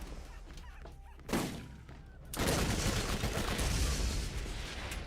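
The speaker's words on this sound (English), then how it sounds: "A shotgun? Are we feeling shotguns here?" Shotgun blasts in a video game played on a Steam Deck, a sharp shot followed by a louder, sustained burst of gunfire over steady game background noise.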